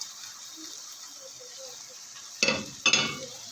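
Aloo qeema of minced meat with fried potatoes and peas in a pan: a soft background sizzle, then two short, sharp bursts of stirring and scraping near the end.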